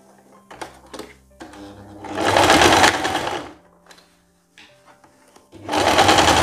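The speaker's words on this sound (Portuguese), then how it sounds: "Agora, nós vamos costurar, ó, as laterais do short e vamos passar no overlock." An overlock sewing machine stitches the side seams of a pair of shorts in two loud, fast bursts, with quieter handling clicks and short pauses between runs.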